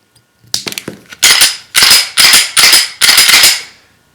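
A Glock pistol fitted with an aftermarket plunger and 3.5 lb connector is dry-fired during a function check, giving a quick run of small clicks followed by five loud, sharp mechanical snaps at a steady rhythm, close up with no talking.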